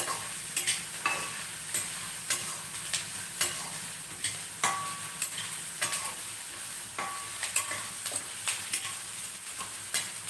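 Long beans frying in a curry pan, with a constant sizzle broken by frequent sharp scrapes and clicks from stirring at a fairly regular pace, close and alone with no voices.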